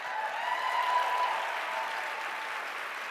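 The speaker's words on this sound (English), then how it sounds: "I want to applaud Kwame right now" Sustained audience applause at the SCBWI Golden Kite Gala 2018, a children's book awards event; a steady, evenly textured wash of many hands clapping in a large room with no talk over it.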